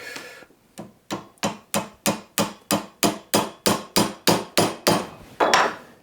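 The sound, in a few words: hammering tacks crimped against an anvil on Shaker box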